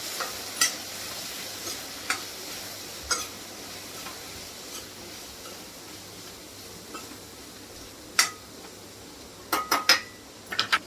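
Coriander powder and red chili being stirred in a pan for a Gudi Padwa thali, with scattered scraping clicks of a spoon against metal every second or two, quiet and close, louder taps near the end.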